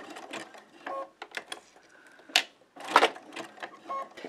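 Sewing machine zigzag stitching around a coiled rope for an embroidered rope bowl, a close, rapid mechanical chatter in short bursts with brief pauses between runs.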